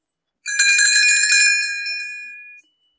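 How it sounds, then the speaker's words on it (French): Small bells tinkle in a bright shimmering cluster as the Tinker Bell page-turn signal, a single chime ringing for about two seconds and fading out against silence. "Elle fera tinter ses petites cloches comme ceci."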